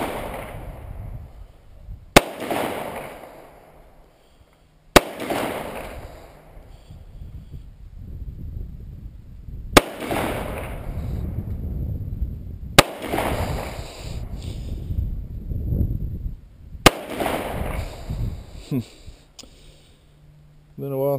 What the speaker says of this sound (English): So let's plink off some more rounds here.